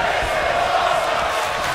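Wrestling crowd at an indie pro wrestling tag match cheering steadily after a Spanish fly off the top rope, a dense continuous roar with a few whoops, fairly loud throughout.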